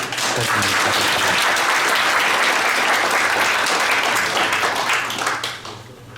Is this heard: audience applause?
yes